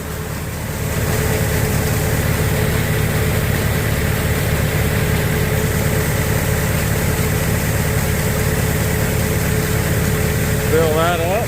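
An old engine-driven 8-inch grain auger runs on a farm, a steady, loud, low mechanical drone with constant vibration throughout, starting up just after the opening second.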